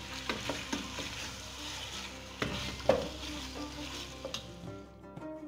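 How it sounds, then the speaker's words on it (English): Carrots, chickpeas, a bay leaf and fresh thyme are stirred in a pot for an Algerian berkoukes couscous stew, with soft scraping and knocks of the spoon over a gentle sizzle, then fading to quiet. "throw it in there, stir it up."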